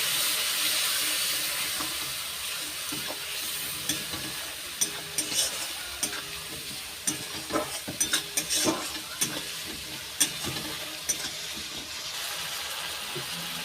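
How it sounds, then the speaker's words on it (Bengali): Spice masala for Kashmiri aloo dum fries in a pan with a steady, loud, close sizzle, punctuated by sharp clicks and scrapes of stirring throughout. "ভালো করে ভেজে নেব।"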